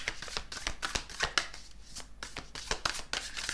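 A deck of tarot cards is shuffled by hand nearby, giving a quick series of crisp riffling snaps and soft taps in an uneven rhythm.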